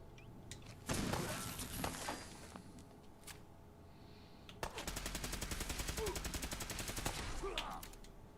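Gunfire in Fallout 4, an opening burst of rapid shots, a few scattered single cracks, then a long sustained automatic stream of evenly spaced shots, fairly loud with game ambience between.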